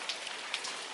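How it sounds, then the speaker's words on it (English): Steady rain falls in London, a dense close hiss of drops spattering on surfaces with a couple of louder individual splashes. "I think I'm going to have to just brace this rain"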